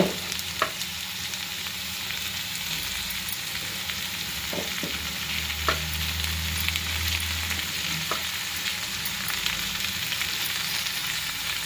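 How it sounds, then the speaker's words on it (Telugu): Tomato, mint, coriander and curry leaves are stirred in a hot frying pan for veg pulav, with a loud continuous sizzle and occasional spoon knocks and scrapes against the pan, close up and without speech. "ఇలా టమాటా వేసుకొని బాగా కలుపుకుందాం"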